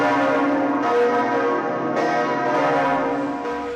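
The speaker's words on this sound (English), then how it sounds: "Notre Dame's huge bells were removed after the fire for cleaning and repair, then returned and tested a few weeks ago." Notre Dame cathedral's huge bells ring loud and sustained, with fresh strikes layering over the long resonant hum, no voices present.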